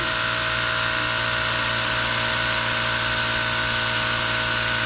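A Predator 420cc engine on an Intrepid Racing go-kart frame, electric start with stock internals, idles steadily close by, a constant loud mechanical hum with a buzzing drone and no pauses.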